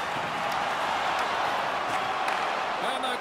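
A hockey arena crowd in the video game NHL 25, Boston Bruins versus Philadelphia Flyers, roars and cheers in a steady, dense wash of noise, with commentary talk running over it.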